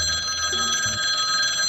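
A phone ringtone plays for an incoming call, with a bright, repeating electronic ring over a steady hum, fairly close and alone without talking.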